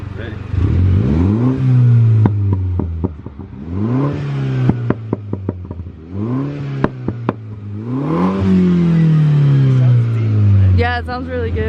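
A Mini F56 with a Burger Tuning Stage 1 install revs loudly and close by, sweeping up in pitch several times in a row, with popping crackles on each lift-off and a low rumble, as people talk over it.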